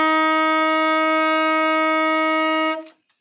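A tenor saxophone sustains a single steady F for nearly three seconds, rich and even, then stops abruptly into silence.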